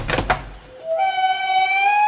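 A door latch clicks open with a couple of sharp knocks, then the door swings with a long, rising creak that holds and climbs steadily, loud and close.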